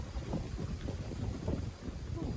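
Steady gusty wind roars against the microphone outdoors, a dense, continuous rumble with uneven swells and no voices.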